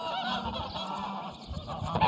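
Geese honk continuously in a village known for raising geese, a dense, overlapping chorus of nasal calls from a flock close by.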